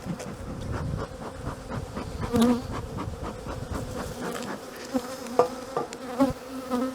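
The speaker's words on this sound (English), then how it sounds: "The bees are angry, but it's because it's winter bees" Dense, steady buzzing of many agitated honeybees close by at an opened hive after winter, a continuous angry drone with occasional louder swells, no voices.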